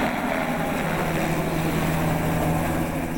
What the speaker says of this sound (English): The sounds of hard work and chopper blades are